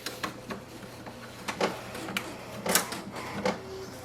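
An HP DeskJet 4310 inkjet printer running off an alignment page, with irregular mechanical clicks, whirs and the swish of the print head and paper feed, close up and fairly quiet, with no voices.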